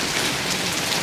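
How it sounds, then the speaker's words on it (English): Hail and rain come down outside an ice cream shop in Central Florida, a loud, dense, continuous patter close by, with no talking during the burst. "you see the hail and the rain?"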